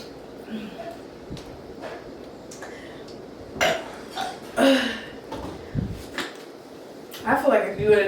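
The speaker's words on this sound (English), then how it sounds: "I feel like if you would have drank this, you would have got better burps." Loud, bubbly burps from a person who has been gulping a 2-liter bottle of root beer, several belches coming in bursts with gaps between and chatter around them.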